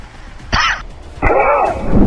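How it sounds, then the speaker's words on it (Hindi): Two short, forceful coughs from one person, close up, the second longer and rougher, over a low background hum. "बीच में खांसी भी आ गई है"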